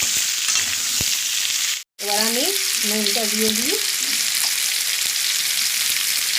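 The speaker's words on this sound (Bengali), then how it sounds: "ভাজা ভাজা করে নিই" Mixed vegetables for a Bengali shukto sizzle loudly in a hot wok with bursts of stirring; a voice speaks briefly over the steady frying hiss after a short gap.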